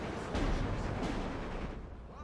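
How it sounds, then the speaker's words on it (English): Mortar and artillery fire in the Steel Division 2 war game, a dense rumbling barrage of distant thuds and booms, with a voice talking over it. "I think my mortars are doing a good job"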